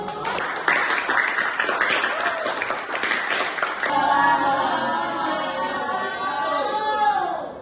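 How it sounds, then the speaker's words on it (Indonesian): A classroom of students claps for the first presentation group, a brisk burst of hand applause lasting about four seconds before fading into chatter and a few voices. "tepuk tangan dulu untuk kelompok 1"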